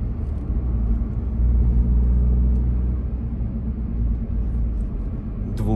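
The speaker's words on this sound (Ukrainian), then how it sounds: "Ви ж повинні відчувати звук двигуна." Engine of a 2016 Citroen C4 Cactus running while driving, heard from inside the cabin as a steady low rumble with road and motor hum, fairly loud and continuous with no talk.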